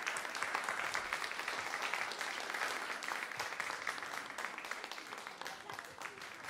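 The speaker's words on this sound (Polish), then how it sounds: "Wielkie brawa dla Maksymiliana" Audience applause fills a school end-of-year concert hall, a dense, steady patter of many hands clapping at moderate level that holds for several seconds and thins slightly toward the end.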